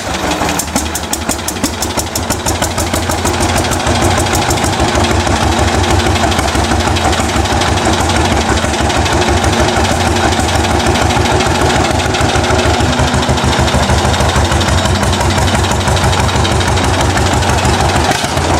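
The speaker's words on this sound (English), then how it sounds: "a 1920s John Deere D, a two-cylinder tractor, as it sputters to life with a classic hand-crank start" A 1920s John Deere D two-cylinder diesel tractor with a 24-horsepower engine runs after a hand-crank start, giving a loud, close, rapid rhythmic chugging and knocking that holds steadily throughout.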